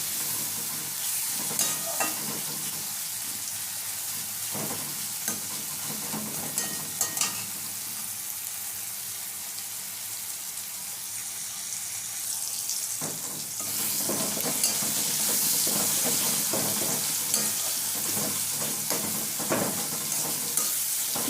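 Onion, tomato and chili frying in a pan with salt and turmeric while being stirred, a steady close sizzle with repeated scraping spoon strokes, growing louder and hissier in the second half.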